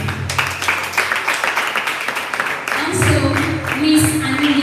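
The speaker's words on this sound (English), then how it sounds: "I would like us all to honor them by giving them a round of applause" An audience gives a welcomed guest at a business gathering a round of applause, with a dense patter of clapping that swells toward the end while a voice sounds over it.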